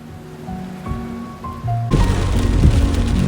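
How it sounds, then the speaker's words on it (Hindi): Heavy rain pours down in a forest near Munnar, Kerala, beginning as a lighter patter and then swelling abruptly into a loud, dense, continuous downpour roar. "बहुत तेज़ बारिश शुरू हो गई है"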